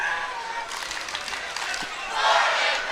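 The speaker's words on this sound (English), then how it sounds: "Nice crowd on hand here." A crowd at a high school boys' basketball district championship gives off a broad, steady roar of cheering that swells louder near the end, heard from within the gym under a commentator's voice.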